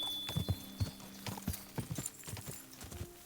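Horse hooves clip-clopping in the video game Kingdom Come Deliverance 2, a quick irregular series of close, crisp hoof strikes at a walking gait over a soft background hum, no voices.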